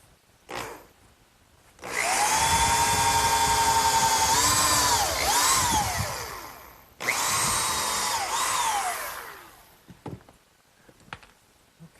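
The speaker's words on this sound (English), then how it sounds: "pre-drill some holes for the screws" A power drill pre-drills screw holes through pressure-treated lumber for a sandbox leg set in adhesive, two loud sustained whining bursts of about five and three seconds with pitch dips as the bit bites, then quiet handling clicks.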